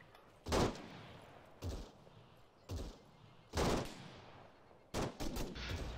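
Gunfire in the military video game Arma, with about six sharp shots spaced irregularly over a few seconds, the final ones coming in a quicker cluster. Each crack is fairly distant and trails off into a short echo.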